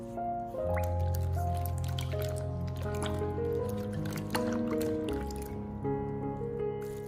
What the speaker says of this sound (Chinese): 然后再用手轻轻地搓洗。